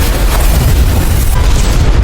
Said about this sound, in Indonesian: Kemudian Gisu melemparkan granat ke dalam lab